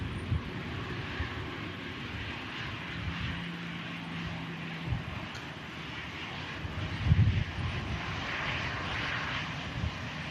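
An EasyJet airliner landing at Manchester Airport, a distant, steady broadband engine rumble and whoosh, fairly faint against outdoor ambience, with no talking.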